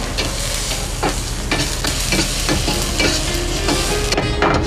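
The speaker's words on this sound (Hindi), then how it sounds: "उसके बाद स्लाइस टोमेटो। इसको डालेंगे, सौटे करेंगे।" Julienned capsicum and sliced tomato sauté in a hot pan. A loud, continuous sizzle is broken by repeated scraping strokes of a stirring utensil, close up.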